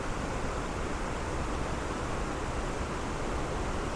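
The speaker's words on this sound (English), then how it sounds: "it is an impressive waterfall in terms of you can feel the power" High Force, a powerful, not delicate waterfall, roars as a steady, loud broadband rush with no breaks, filling the scene close by and alone without voices.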